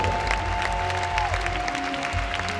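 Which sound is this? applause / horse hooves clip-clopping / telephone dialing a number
applause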